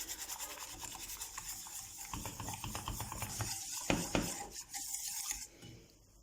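A spoon stirring a starch and cornstarch mixture in a pot, scraping and clinking against the sides in quick irregular strokes, close up with no talk.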